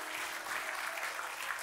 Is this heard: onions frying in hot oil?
no